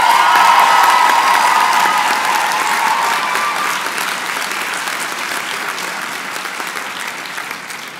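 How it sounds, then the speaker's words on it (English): Loud, sustained audience applause at a Humber College spring 2019 convocation for faculty and staff, dense clapping holding steady for several seconds and slowly tapering, with a few faint cheers mixed in. "Let's give our faculty and staff a round of applause"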